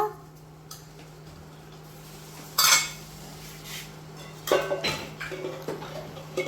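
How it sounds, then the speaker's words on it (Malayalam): Children play with steel plates, pots and spoons at home, giving sporadic close clinks and clatters, a couple of louder metallic bangs amid quieter tapping and handling, with no speech. "ഞങ്ങൾക്ക് പ്ലേറ്റും പാട്ടയും സ്പൂണൊക്കെ മതി"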